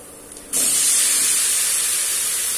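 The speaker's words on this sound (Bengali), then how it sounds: "এবার আমি চিড়েটা দিয়ে দেবো কড়াই।" Flattened rice hits a hot wok of fried potatoes and chilies for chire pulao, setting off a sudden loud, steady sizzling hiss that keeps going close by with no talk.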